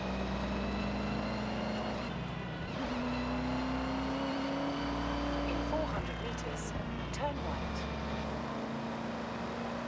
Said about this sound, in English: The supercharger sounds so weird